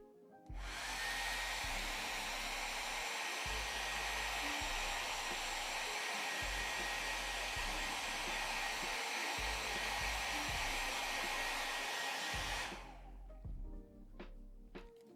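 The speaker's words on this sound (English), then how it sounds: "I'm going to use the blow dryer." A hair blow dryer runs steadily for about twelve seconds while miniature paint dries on an Immortal Hulk figure, a loud, constant airy roar with a rhythmic low thumping underneath, then it cuts off and leaves a quieter room.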